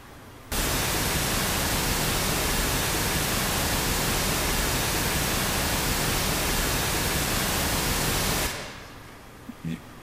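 A steady, loud hiss of white noise switches on abruptly and runs unchanged for about eight seconds before fading away.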